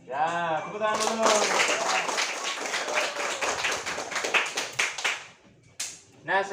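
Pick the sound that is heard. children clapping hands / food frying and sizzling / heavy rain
children clapping hands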